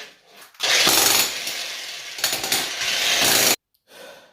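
Flat chisel bit on a power hammer breaking up a concrete floor during freestanding tub plumbing work, a loud, sustained hammering burst of about three seconds that stops abruptly, followed by a brief quieter rattle.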